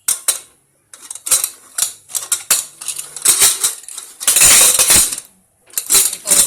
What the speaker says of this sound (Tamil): இப்போ அந்த மூடியை போட்டு குக்கர் மூடியை போட்டு நம்ம மூட போகிறோம்.